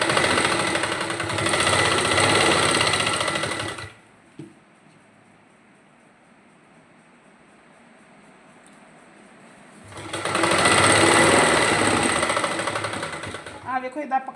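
A sewing machine stitching lace onto a salwar runs loud and fast for a few seconds, stops for several seconds of quiet, then runs again at full speed.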